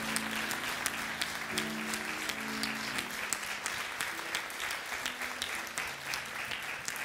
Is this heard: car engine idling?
no